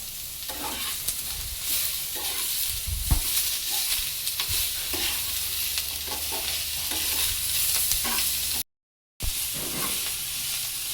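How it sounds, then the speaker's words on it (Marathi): Tomato, ginger and garlic roast in a hot pan with a steady sizzling hiss, broken by occasional scraping and stirring clatter and one brief dropout. "तर राहिलेला टोमॅटो आहे तो पण भाजून घेऊया आणि थोडीशी कोथिंबीर पण।"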